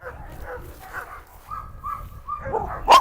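A Cane Corso dog gives short, muffled barks and whimpering yips at moderate distance, ending in a sharp louder bark, amid a commotion outdoors.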